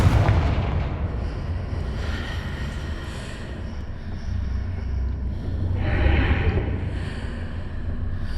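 A Confringo fire spell fired in the game Hogwarts Legacy, heard as a rumbling, booming blast with crackling bursts over a low, continuous roar.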